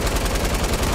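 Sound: gunfire in a battle royale video game

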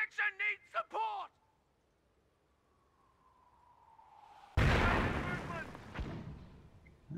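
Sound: mortar fire and explosions in Company of Heroes video game

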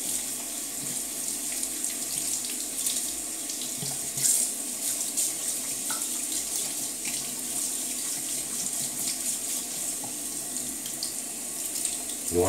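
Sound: tap water rinsing a new brush

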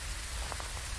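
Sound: rain falling in the video game Phasmophobia

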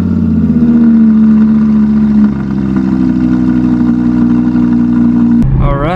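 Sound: Audi R8 cold start engine

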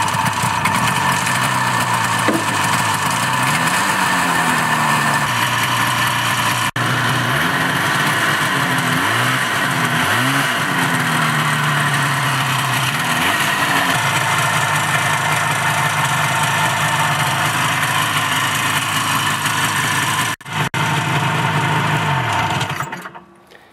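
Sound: Citation 4500 snowmobile with Rotax 377 engine starting and running

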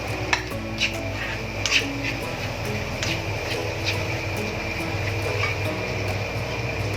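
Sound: stirring peanut chutney in a pan

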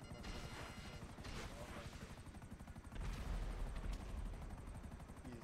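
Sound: helicopter gunfire in GTA 5 (video game)

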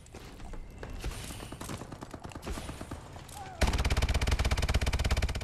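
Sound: machine gun fire in a video game

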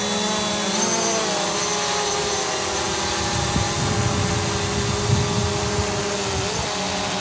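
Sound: C-Fly Obtain F803 quadcopter drone flying and climbing

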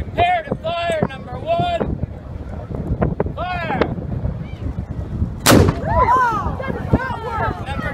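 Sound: artillery gun firing at Privateer Days

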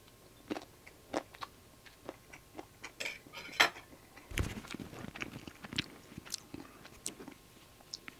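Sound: biting and chewing chocolate topping of a fruit tart

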